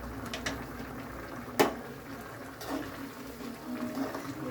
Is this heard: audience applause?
no